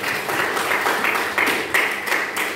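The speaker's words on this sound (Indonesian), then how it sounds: "tepuk tangan buat semuanya" A class of accounting students claps as a group, a loud and close patter of hands with a few sharper individual claps standing out over the steady burst.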